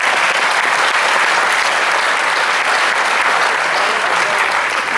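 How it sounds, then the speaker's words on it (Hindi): An audience at a comedy poetry gathering at Kala Mandir in Bhilai breaks into loud, dense, continuous applause that holds steady for several seconds without pause. "तालियां निशा जी के"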